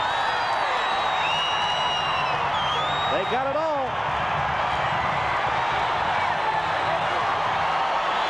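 A packed Montana State Bobcats football crowd in Bozeman roars after a 70-yard touchdown pass in the 1984 I-AA semifinal, a loud, steady cheer that fills the whole stretch while a commentator talks over it.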